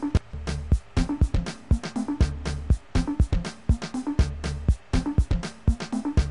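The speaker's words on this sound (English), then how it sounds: "I'll add reverb to it, and I'll add a lot of reverb to it" A rhythmic sampled beat with punchy low hits and sharp transients, each smeared by a long, washy reverb tail that fills the gaps between strikes.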